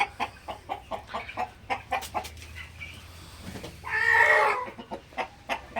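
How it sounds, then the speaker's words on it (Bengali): Colombian Brahma roosters and hens on a hobby poultry farm cluck in a steady run of close, repeated calls, broken by one longer, louder call midway, with no talking. "এই যে এগুলো হচ্ছে আপনার ব্রাহ্মার মোরগ"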